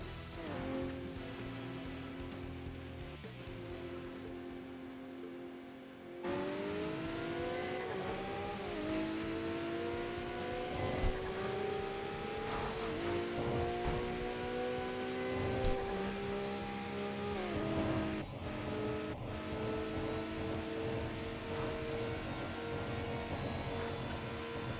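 A GTR in a racing video game accelerates hard after a quieter idle start, its engine climbing through repeated gear-shift sweeps in a loud, continuous roar, with a few brief tire squeaks and no talking.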